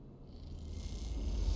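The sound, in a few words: cat purring, from the video game Citizen Sleeper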